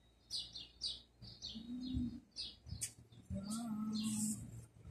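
Pigeons coo in low, rolling murmurs, mixed with quick high chirps from small birds, nearby and fairly faint.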